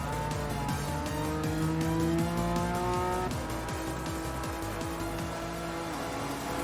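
Race car engines roar in Gran Turismo 7 on the Alsace circuit, a close, loud, high-revving drone with rising pitch sweeps as gears shift, a constant racing sound with no talk.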